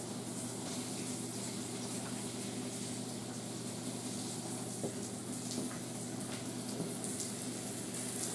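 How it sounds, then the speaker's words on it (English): Water spraying onto a concrete floor during rinsing after etching, a faint continuous hiss and splash that holds steady throughout with no voices. "now what I'm going to do is I'm going to start rinsing it."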